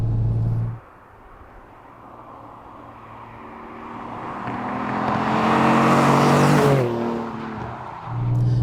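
A TVR Cerbera Speed 6 engine rumbles low and steady, its note swelling as revs rise and then crackling and burbling on the overrun before settling back to a deep idle, with no voices present.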